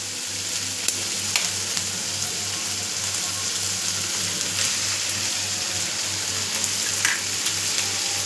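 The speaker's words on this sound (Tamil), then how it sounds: "2 முட்டையை உடச்சி ஊற்றிக்கலாம்." Two eggs frying in a pan with sautéed onions, a steady close sizzle and crackle with occasional small pops, continuous and alone without talk.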